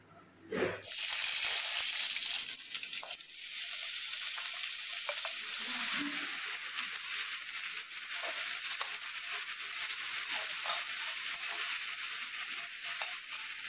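Oil heating in a wok for frying dhekia fern greens, a continuous close hiss and crackle held steady with a few faint knocks.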